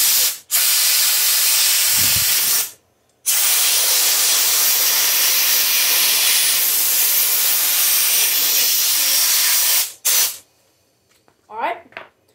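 Compressed air blasts through the emulsion tube of the carburetor from a Honda-powered Troy-Bilt 4500 psi pressure washer: two long, loud, close hissing bursts separated by a brief pause, followed by a short puff and faint handling noises.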